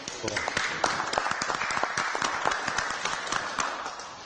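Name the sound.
audience applause for the commentator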